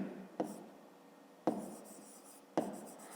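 Pen writing by hand on paper during a fifth-grade maths exercise: three sharp taps as the pen meets the page, each trailing into a soft scratching stroke, close and quiet, with no voice.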